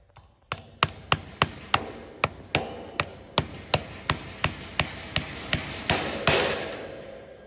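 A hammer fastens a corner of a pig pen. Sharp, evenly paced blows ring out, about eighteen strikes in a steady rhythm, close and fairly loud, with no voices.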